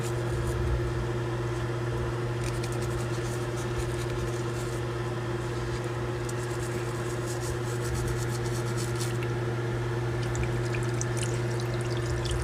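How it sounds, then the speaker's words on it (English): Running tap water streams continuously as dentures and a toothbrush are rinsed, a steady close splashing over a constant low hum from the room, with no talking. "Rinse your dentures and also rinse your brush."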